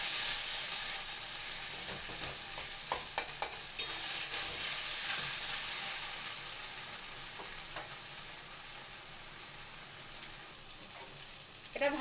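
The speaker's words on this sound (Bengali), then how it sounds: "নাড়িয়ে দেবো, আর একটুখানি ভাজা হবে" Water lily stems fry in a pan with a steady, bright sizzle while a spoon stirs them, scraping and tapping now and then; close, continuous and fairly loud, with no voices.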